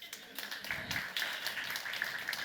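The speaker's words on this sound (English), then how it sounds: "A round of applause to Irina." A tech-talk audience claps in a steady patter of overlapping handclaps, moderately close and fairly light, continuing evenly throughout.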